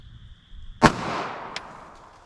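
A single sharp, loud gunshot from a .380 ACP pistol firing Underwood XTP ammunition over a chronograph outdoors, followed by a fading echo and a faint second crack.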